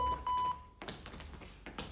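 A workout interval timer gives three short, clear electronic beeps in quick succession at a fitness cardio training session, followed by faint movement sounds.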